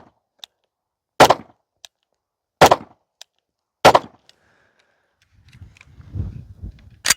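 Three sharp M18 pistol shots ring out about 1.3 seconds apart at a range, each a loud, near crack with a short tail, followed by low rustling and handling noise.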